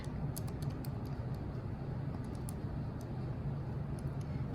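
Rapid light key presses tap out values on a graphing calculator, a scattered burst of faint clicks over a steady low hum, quiet and close with no voices.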